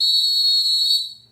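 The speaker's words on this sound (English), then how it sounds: "Let's get to these blow the whistles though." A single sharp, high whistle blast is blown hard for about a second and then cut off, loud and close, alone with no voices.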